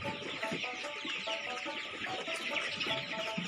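A flock of tiger breed chickens on a farm clucks continuously, many overlapping calls at a moderate distance forming a busy, fairly quiet murmur with no voices.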